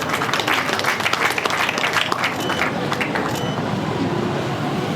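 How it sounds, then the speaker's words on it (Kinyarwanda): Guests at a Rwandan wedding ceremony break into dense, sustained applause, loud and close, the clapping thinning slightly toward the end with some crowd murmur beneath it. "Ababishima bahuze ibiganza bagushimire cyane."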